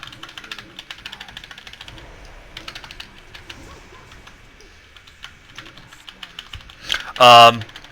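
Keyboard keys are pressed during World of Warcraft play, a quick irregular run of close, light clicks and taps, ending in a short loud electronic tone from the game.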